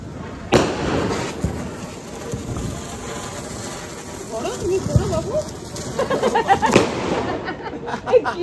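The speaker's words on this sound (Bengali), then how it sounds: "বাজি ফাটাতে ব্যস্ত" Firecrackers bursting at a family Kali Puja celebration, with sharp pops and bangs scattered through the scene, several louder cracks standing out, amid ongoing crowd chatter and people talking close by.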